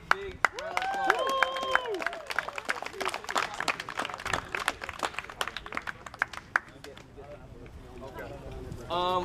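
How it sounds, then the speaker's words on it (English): Scattered clapping from a crowd at an outdoor Labor Day BBQ party, fairly quiet and uneven, mixed with people talking and calling out throughout. "So let's give her a round of applause"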